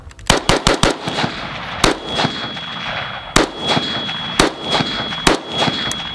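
Rifle gunshots at an outdoor shooting range, a loud rapid string of sharp cracks, several fired in quick succession and then spaced single shots, close and dominant with no talking.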